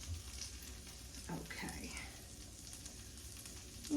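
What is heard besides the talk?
onions sizzling in a frying pan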